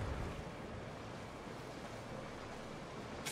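Steady rushing water and wind noise as a boat is paddled across water in Zelda: Tears of the Kingdom, a continuous soft wash with no distinct strokes, no one speaking.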